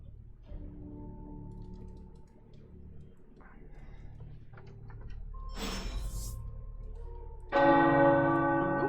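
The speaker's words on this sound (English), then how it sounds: "the tower bells are ringing." Quiet ticking and soft tones give way to a loud, ringing toll of tower bells near the end of a Midnight Suns video game scene, its rich resonance lingering.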